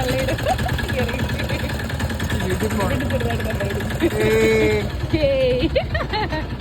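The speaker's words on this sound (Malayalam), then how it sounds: "ഫൈനലി നമ്മുടെ വണ്ടിയുടെ എഞ്ചിൻ ഓൺ ആയിട്ടിരിക്കുകയാണ് ഗൈസ്." A vehicle engine idles steadily with a low rumbling hum, while people talk nearby over it.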